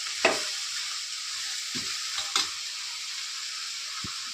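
Brinjal curry with turmeric frying in a pan: a constant bright sizzle close up, broken by a few soft clunks of stirring, with no voices.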